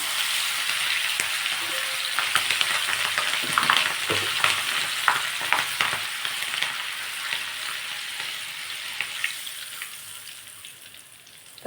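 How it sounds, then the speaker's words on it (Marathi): Chopped green chillies frying in hot oil in a strainer make a loud, crackling sizzle with dense popping spatters that stay busy before gradually calming toward the end. "आता याच चाळणीमध्ये आपण हिरवी मिरची जेवढी आपल्याला पाहिजे तेवढी अशी बारीक तुकडे करून तळून घ्यायचे आहेत"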